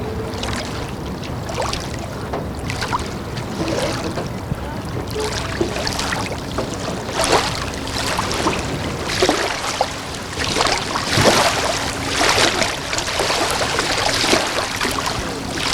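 Water splashes and sloshes steadily around a rescue boat on open water during a drowning-rescue demonstration, with faint voices and background noise throughout.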